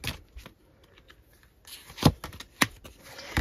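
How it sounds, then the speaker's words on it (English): Tarot cards being shuffled by hand: quick papery riffles and slaps come in short bursts, with two sharp louder shuffles near the end, close and alone. "I'm going to put them back and shuffle again"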